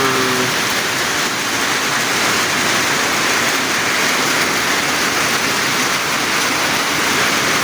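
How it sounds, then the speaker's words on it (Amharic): Hail falls again onto corrugated metal roofs, a loud, unbroken, hissing clatter that holds steady from start to finish with no speech over it. "ይኸው በረዶ ተመልሶ መጣ። በረዶ እየጣለ ነው።"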